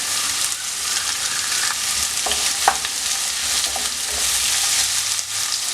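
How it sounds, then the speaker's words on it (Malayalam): Onions sautéing in a pan for a soya chunks roast, a continuous close sizzle with occasional clicks of stirring, fairly loud and even throughout. "ഈ സവോള നല്ലതുപോലെ ഒന്ന് വഴണ്ട് വരട്ടെ"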